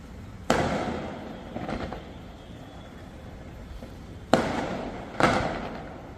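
Firecrackers and fireworks bursting during a celebration: four sharp, loud bangs, each with a short echoing tail, one early, one softer, then two close together near the end, with quiet background between.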